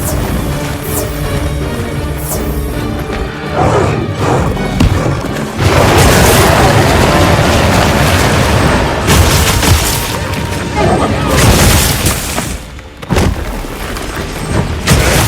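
Missile explosions in Monster Hunter Wilds, loud dense booms and crashes rolling almost continuously with a brief lull near the end, layered with game music and effects.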